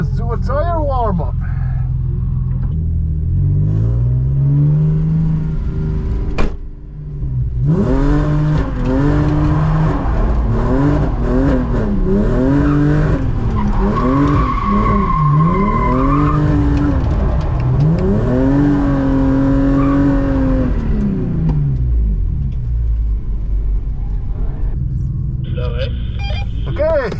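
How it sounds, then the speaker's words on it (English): BMW E60 drift car doing a tire warm-up, engine revving hard in rising and falling sweeps with tires skidding, loud and close, a brief pause midway, and a voice talking at the start and end. "let's do a tire warm-up"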